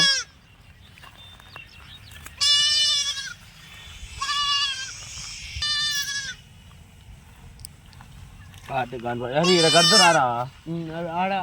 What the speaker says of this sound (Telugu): ఇదిగోండి ఫ్రెండ్స్, ఇదే మేక.